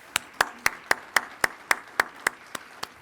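Sparse, slow claps from a small group at a heavy equipment program commencement ceremony, about a dozen distinct, evenly spaced hand claps in a large room.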